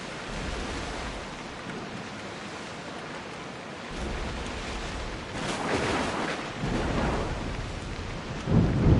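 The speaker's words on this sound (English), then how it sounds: "There's a storm ahead!" Thunderstorm at sea in Assassin's Creed Odyssey: steady heavy rain and surf roar throughout, with thunder rumbles swelling from about four seconds and a louder crack near the end, no voices.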